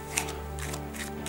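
Overhand shuffle of a deck of playing cards during a card-control magic lesson, a soft papery riffle of brief flutters over a steady low hum, close and quiet with no voice.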